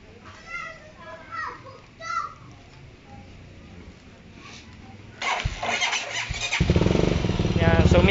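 A Bristol 400cc motorcycle with a faulty charging system cranks and fires up partway through, then settles into a loud, steady, close-up running note after someone talks over faint background noise and children's voices.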